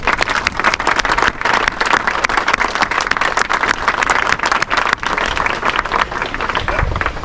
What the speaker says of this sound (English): let's do a big round of applause for the volunteers